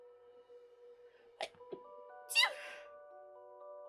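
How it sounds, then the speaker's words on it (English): A single short sneeze rings out near and clear in a quiet setting, preceded by a couple of faint sniffs, over a steady low tone. "I have to sneeze."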